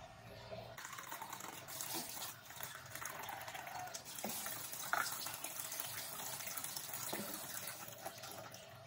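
Water pours and splashes continuously into a rice pot for cooking rice nearby, a steady running flow with a few small clinks.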